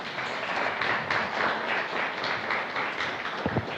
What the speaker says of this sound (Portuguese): Se você está entendendo, aplauda o Senhor Jesus.